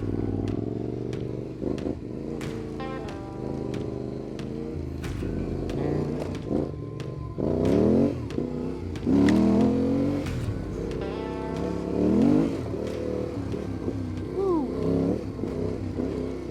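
A Yamaha Tenere 700 motorcycle engine runs close by, rising and falling through several revs with clicks and clatter in between and a little faint talk.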